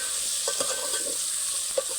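Okra stirred in hot oil for a Kathiyawadi kadhi tempering with cumin and asafoetida, a steady close sizzle with a few soft scraping stir strokes.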